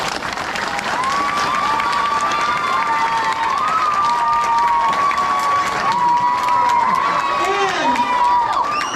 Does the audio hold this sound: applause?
yes